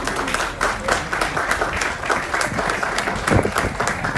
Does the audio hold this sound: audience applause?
yes